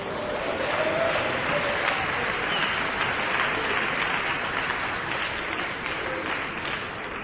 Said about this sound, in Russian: Дайте аплодисменты Богу